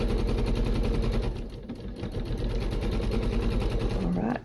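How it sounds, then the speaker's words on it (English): A sewing machine runs steadily as it stitches off the edge of fabric binding on a candy cane, giving a close, rapid, continuous mechanical whir throughout. "I'm just going to sew off the edge there"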